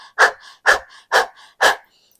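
Rapid rhythmic panting breaths pumped through the mouth during a Kundalini breathing exercise, four sharp, loud, close exhalations evenly spaced, heard alone.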